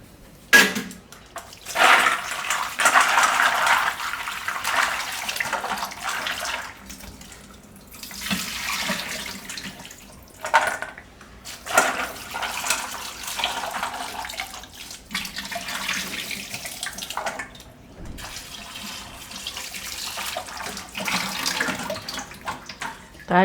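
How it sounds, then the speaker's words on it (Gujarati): Dried soya chunks are rinsed under running water in a home kitchen, with tap water gushing and splashing in several bursts separated by short pauses, close and fairly loud. "તો 2 થી 3 પાણી ધોઈ નાખીશું આને."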